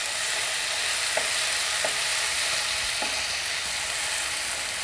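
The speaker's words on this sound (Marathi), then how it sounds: "टोमॅटो चांगला मिक्स करून घेऊया." Tomato sizzling in a pan of chicken kheema, a dense continuous frying hiss broken by a few faint scraping strokes of stirring, close and steady, no voices.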